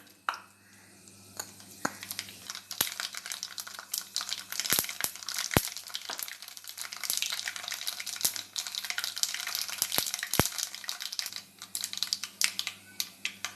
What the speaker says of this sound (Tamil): இப்போ கடுகு பொரிஞ்சிருச்சு